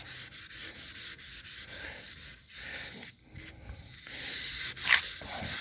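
A paper towel rubs and wipes petroleum jelly off rattle-can painted metal with surface rust on a 1978 vehicle, repeated close scrubbing strokes in a steady rhythm, quiet and without talk.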